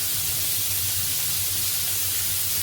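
Turmeric hits hot oil in a kadhai for fish curry, setting off a loud, steady hiss and spray of sizzling that stays constant from start to finish with no talking.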